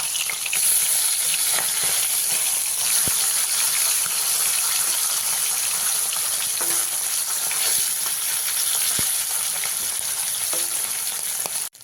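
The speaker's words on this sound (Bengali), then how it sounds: "এবারে উল্টে দিয়ে অপর সাইডটাকে ভেজে নিই" Amudi fish sizzle steadily in hot oil in a pan as they are turned over, a continuous bright crackling hiss with occasional soft clicks of the utensil, close and even throughout.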